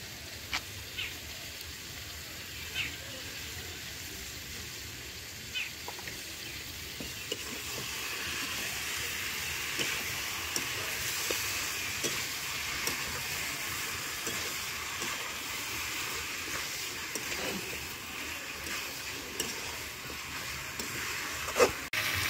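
Chicken being sautéed in a pan, a soft continuous sizzle with faint scraping and clinks, heard quietly and alone throughout.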